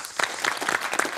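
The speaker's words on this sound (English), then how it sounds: "Round of applause for the kids." Short burst of studio audience applause on a TV quiz show, steady close clapping from a crowd for about a second.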